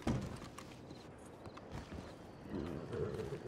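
Horse hooves clip-clopping at a walk, a steady rhythmic thudding at moderate distance with faint background noise and no clear talk over it.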